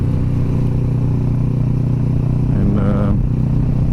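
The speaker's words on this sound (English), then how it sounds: "it definitely wakes the bike up, makes it louder" Motorcycle fitted with a Delkevic SS70 slip-on exhaust, its engine running steadily and loudly throughout with a deep rumble and a brief rise near the end, a voice speaking over it.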